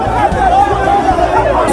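A crowd of supporters greets the 15th Emir of Kano at the palace in Nasarawa GRA, a close, steady babble of many voices talking at once.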